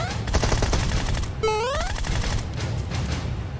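Rapid bursts of automatic gunfire in the battle royale game PUBG Mobile, sharp cracking shots repeating throughout, with a brief rising whistle-like sweep in the middle and the firing continuing afterward.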